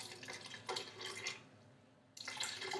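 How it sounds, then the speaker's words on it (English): Filtered water pours from a cup into a blender in two short splashing streams separated by a brief pause, close and fairly soft, with no talking. "I'm just going to put some filtered water in there just to thin it out a bit"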